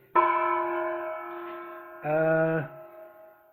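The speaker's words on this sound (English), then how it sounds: "Nice little gong thing, you know." A small gong in a home room is struck twice, each stroke giving a bright ringing tone. The first rings on for about two seconds, and the second, shorter and lower, is cut off quickly.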